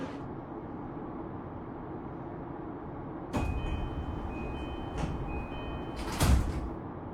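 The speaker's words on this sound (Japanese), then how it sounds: "4番線ドアが閉まります。" Simulated sliding doors of a JR Negishi Line local train in the BVE5 train simulator, with several short thuds and a louder closing thump near the end over steady cab rumble.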